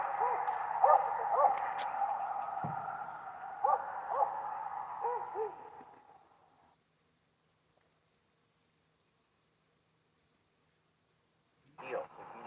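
Dogs bark and howl far off on a quiet roadside, the faint, drawn-out calls repeating for several seconds before fading into silence, with a brief noise at the very end.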